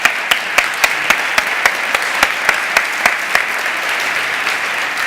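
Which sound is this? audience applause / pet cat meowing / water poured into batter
audience applause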